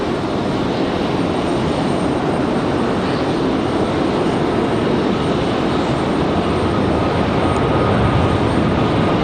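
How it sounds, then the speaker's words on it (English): A United Boeing 737 MAX 8 jet arriving from SFO touches down at Raleigh Durham airport, a loud, steady, broadband roar of engines and rushing air that holds for several seconds without voices. "And here comes United from SFO. The MAX 8 with a nice smooth touchdown."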